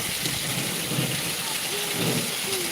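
Steady hiss of heavy monsoon rain pouring down in Khambha, Gujarat, continuous and dense, with faint faraway voices underneath.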